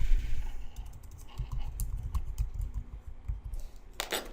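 Typing an address on a computer keyboard: quick, irregular clicking of keys at close range, in short bursts with brief pauses, ending in a louder flurry of keystrokes.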